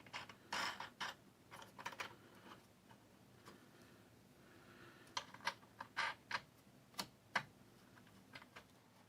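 A screwdriver forcing a wing nut onto a threaded rod under a small model railroad benchwork base, giving sparse clicks and ratcheting metallic ticks in irregular clusters, close and fairly quiet.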